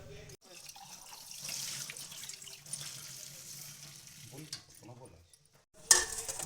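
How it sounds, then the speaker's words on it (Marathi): Water pours in a steady stream into thalipeeth flour being mixed in a bowl, faint and continuous, with soft stirring and a brief clatter near the end. A voice speaks quietly underneath. "आता यामध्ये थोडं थोडं पाणी घालून आपण हे सर्व मळून घेणार आहोत"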